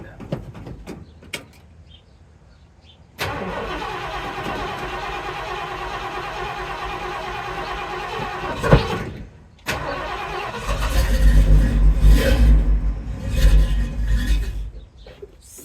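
A Foxbody Ford Mustang engine cold start: a few clicks and thumps, then a sudden loud catch into a steady high idle, a brief stumble and cut-out, and a rougher, louder rev as it restarts and runs.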